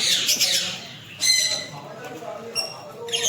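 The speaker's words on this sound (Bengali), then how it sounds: "এদিকে আছে এদিকে টিয়া পাখি আছে" A parrot in an aviary at Baruipur zoo gives harsh, close squawks in several bursts, with people talking in the background.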